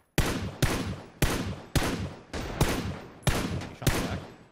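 Eight evenly spaced, loud gunshots in a video game shootout, each with a sharp crack and a short echoing tail, fired at a steady rhythm about half a second apart with no talk.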